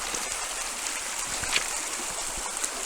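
A river flows over rocks, a broad steady rushing wash with occasional small splashes and trickles, continuous and fairly close.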